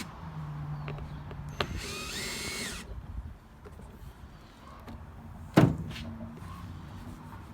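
A power drill runs briefly in reverse while removing cover screws from a Champion 3400 watt dual fuel inverter generator, a short whirring burst followed by a sharp clunk of the cover, close and otherwise quiet.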